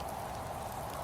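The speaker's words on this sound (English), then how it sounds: "the rain is stopping" Steady rain falls on a surface in a dense, even patter that stays constant throughout, with no voices.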